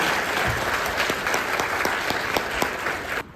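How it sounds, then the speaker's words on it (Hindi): Loud, continuous applause from a seminar audience in Rajkot, with a few sharper individual claps standing out from the dense clapping before it cuts off abruptly near the end. "तो जोरदार तालियां बजाइए"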